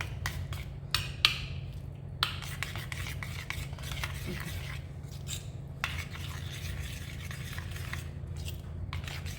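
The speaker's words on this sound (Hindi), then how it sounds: "खट्टे दही और खटाई, आमचूर पाउडर का पेस्ट तैयार करना है हमें" A spoon scrapes and stirs a thick paste of sour yogurt and amchur powder in a small bowl, with soft rasping strokes and a few sharper clinks, close and quiet throughout.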